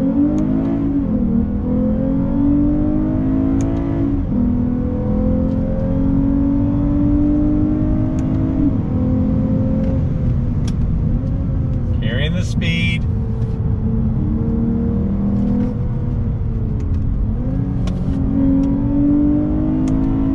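A 2021 Lexus IS350 F Sport sedan accelerating on throttle, its engine note climbing steadily through several gear changes over a sustained cabin hum, with a driver speaking throughout.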